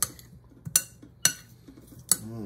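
A utensil scrapes and clinks against a pot while stirring pulled pork sauce: four sharp metallic knocks spaced irregularly over quiet, close and distinct, with no talk.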